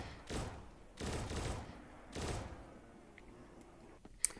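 Gunfire in a Roblox zombies game: three short bursts of rapid shots about a second apart, moderately loud, then a quieter stretch with a few faint clicks and one sharp tick near the end.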